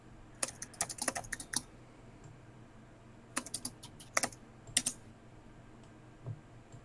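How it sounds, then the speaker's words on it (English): Rapid bursts of keystrokes on a mechanical computer keyboard, clattering in several quick clusters with short pauses between, fairly close and crisp over a low steady background hum, with no voices. "It's amazing how well your microphone picks up your typing."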